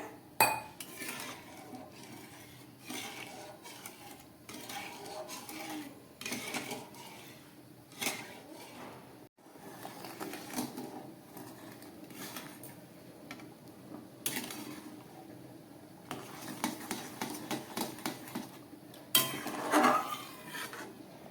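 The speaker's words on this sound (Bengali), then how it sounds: "এবার ডালটাকে আমি খুব ভালো করে একটু নেড়ে দিচ্ছি" Mung dal being stirred in a cooking pot, with a utensil scraping and clinking against the metal over a steady low kitchen background. The stirring is irregular and repeats throughout, with some louder knocks near the end.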